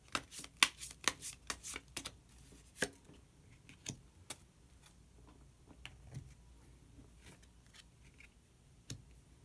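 Tarot cards are shuffled and drawn: a fast flurry of crisp card snaps and riffles up close, then sparse single taps and flicks as cards are pulled and laid down, quiet with no voices.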